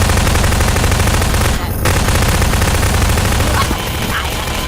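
Dense, continuous automatic gunfire from a Garry's Mod match, loud and close, with one short break midway before the shooting resumes.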